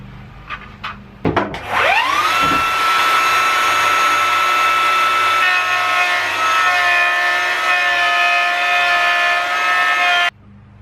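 A router with a 100% carbide bit cuts a half-inch mortise down the center of a wooden board for toy blocks. It spins up sharply, holds a loud, steady high whine for about nine seconds, then cuts off.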